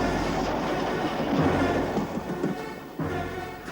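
A model train rumbles across a weakened bridge in a 1989 tugboat TV episode, a steady rolling clatter with wheels clicking over the span, loud and close throughout with no voices.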